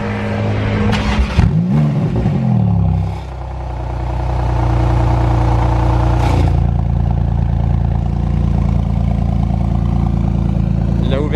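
Porsche GT2 RS flat-six revving with exhaust valves open, a sharp rising blip then a sustained loud, close engine howl, a voice briefly audible early on.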